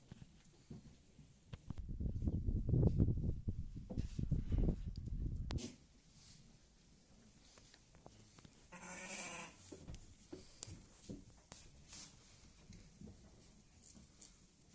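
Sheep and a lamb bleat in a loud, wavering series up close, then a softer bleat follows amid quieter rustling and shuffling of sheep eating straw.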